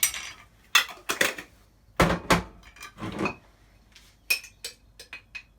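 Long spoon clinking against a glass while stirring juice with honey, giving a series of sharp, bright metallic clinks in irregular bursts, close and fairly loud, with quiet gaps between.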